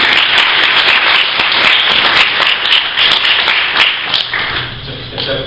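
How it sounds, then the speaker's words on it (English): Church congregation applauding Sunday school teachers: steady dense clapping from a crowd that holds for several seconds, then thins slightly near the end. "So, give them a round of applause."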